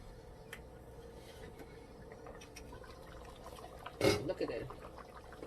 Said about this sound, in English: I'm going to add the water to the pot.